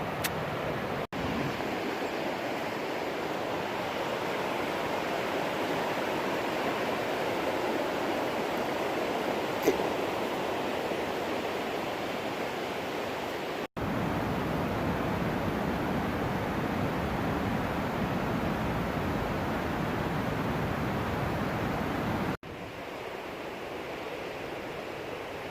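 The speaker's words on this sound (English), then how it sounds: "Water's really running because everything's so flooded." Rushing floodwater pours through the Cataracts gorge in Maine, a continuous broadband roar of swollen stream and cascades, steady and loud throughout with brief cuts, no talking.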